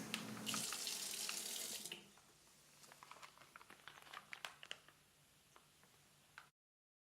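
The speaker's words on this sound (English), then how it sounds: "fill halfway with warm tap water and wait 30 seconds" Warm tap water runs loudly from a faucet into a pouch holding unused medications for about two seconds, then cuts off, leaving faint ticks and light handling sounds.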